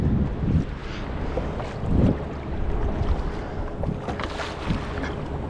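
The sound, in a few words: kayak launching from shore, wind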